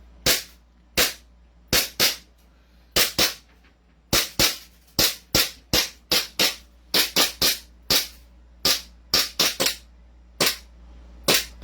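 Gunfire at a shooting range: a long run of sharp, loud single shots in irregular bursts, some in quick pairs and strings, each decaying fast against a low steady hum.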